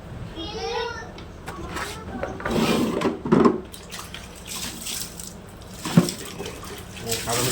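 Water runs from a tap while water purifier parts are washed, a steady splashing wash with occasional louder splashes, and children's voices talk over it.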